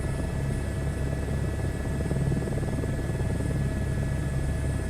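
Helicopter rotor in a VR flight video game, a steady close throbbing chop over a low engine rumble with a faint high whine, constant throughout and no talk.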